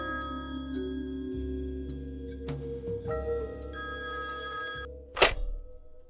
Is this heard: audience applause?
no